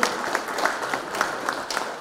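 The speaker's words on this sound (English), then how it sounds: "Please give a big round of applause to our leader." A crowd at a national budget roadshow Q&A in Fiji applauds their leader, steady close clapping with distinct individual claps standing out at a fairly loud, even level.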